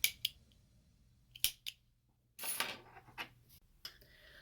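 Scissors snip through crochet yarn in a few sharp, close clicks and crisp cuts spread across a few seconds, with quiet handling rustle between them.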